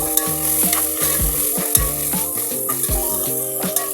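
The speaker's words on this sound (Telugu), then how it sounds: "అల్లం వెల్లుల్లి, ఉల్లిపాయలు, పచ్చిమిర్చి ఇవన్నీ బాగా ఫ్రై అవ్వాలండి" Ginger-garlic paste, onions and green chilies fry in a pan for a coconut fish curry, giving a steady, close sizzle with light stirring under background music.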